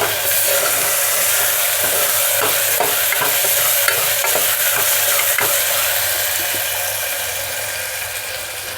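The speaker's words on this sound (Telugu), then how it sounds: "కుక్కర్ మూత పెట్టి టమాటా మెత్తబడేదాకా ఫ్రై చేసుకుందాము" Chopped tomatoes fry in hot oil inside a pressure cooker for mutton curry, giving a steady, close hiss of sizzling broken by a few soft stirring clicks that fade slightly toward the end.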